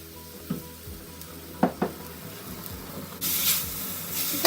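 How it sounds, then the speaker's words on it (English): Beef sears in a hot pan for ramen, a low steady sizzle with a few sharp clicks and pops, then a louder burst of hissing spatter toward the end. "my beef's in there and it's sizzling"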